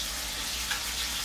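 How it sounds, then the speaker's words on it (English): Beef suet frying in a pan, a steady close hiss and crackle of sizzling fat with a faint low hum beneath. "this beef suet is cooking up and it's frying up"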